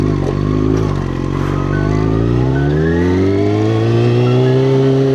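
A Yamaha R6 motorcycle revs loud and close, its engine note climbing steadily in pitch throughout, alone with no talking.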